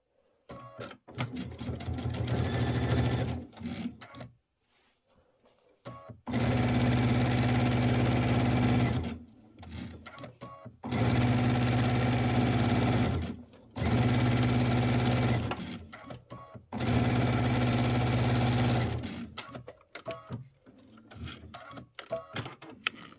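Sewing machine stitching down a mini quilt with a 1/4 inch foot at 2.5 stitch length, running in four steady bursts of several seconds each separated by short pauses, close and clear with no talking.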